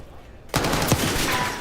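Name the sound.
gunfire in Call of Duty video game match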